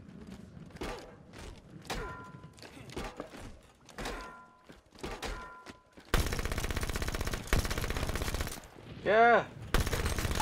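Submachine gun fire in the video game Halo 5 comes in a dense burst of sustained rapid shots late on, after scattered thumps and clatter, with a short shout and a sweeping effect partway through.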